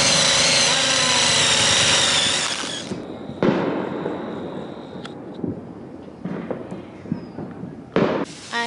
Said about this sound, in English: on the deck there's fireworks everywhere